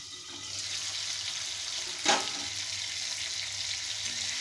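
Ridge gourd and potato curry sizzles steadily in a pan, with one sharp scrape of stirring about halfway through over the continuous frying hiss.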